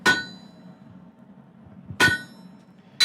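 A cross peen hammer strikes steel being worked into firesteel, ringing out in three sharp metallic clangs, the first two about two seconds apart and the last following quickly, each decaying briefly into quiet.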